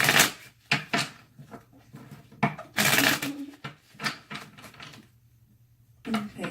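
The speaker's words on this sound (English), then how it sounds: "Okay, two more shuffles." A deck of tarot cards being shuffled by hand at close range, a series of quick riffling and slapping bursts with short pauses between them, then a brief quiet stretch before another shuffle.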